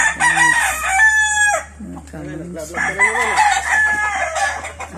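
Roosters crow repeatedly from a breeding pen on a farm, close and loud, with clucking between calls and a person speaking over part of it.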